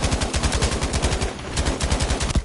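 Rapid automatic gunfire in a Battlefield V multiplayer match, a dense, loud burst of fast repeated shots that briefly thins before resuming.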